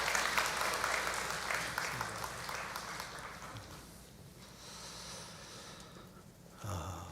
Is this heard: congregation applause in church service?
yes